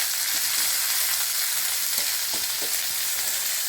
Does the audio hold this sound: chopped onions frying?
yes